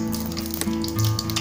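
Chana dal and mustard seeds frying in hot oil, a close continuous sizzle with scattered small pops and crackles.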